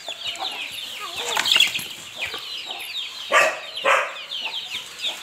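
Chickens and young chicks of a fighting rooster breed cluck and peep together in a flock, with a few louder calls and brief wing flutters standing out.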